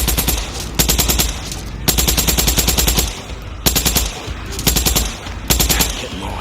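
Rapid automatic gunfire in a zombie shooter game, loud and continuous bursts with brief pauses between them, no talk over it.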